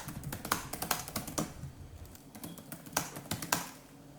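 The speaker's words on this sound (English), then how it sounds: "here's a quick demo of the sound of the keyboard itself" Fingers type on the keyboard of an Asus VivoBook Flip 14 laptop (4700U, 2020), producing soft, quick key clicks in uneven runs with a brief pause midway, close and quiet.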